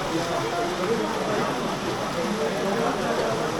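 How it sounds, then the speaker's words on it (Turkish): Steady rain hiss fills the scene, an even wash of falling drops on surfaces, continuous and fairly loud without any pause. "Evet, yağmur başladı."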